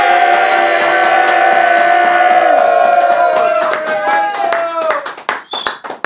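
An audience welcomes the musician with a loud burst of sustained whooping and cheering voices, then sharp, scattered hand claps that grow more distinct as the cheering fades.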